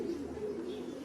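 Caged racing pigeons coo in a low, continuous murmur, a steady close hum of overlapping calls with no break across the moment.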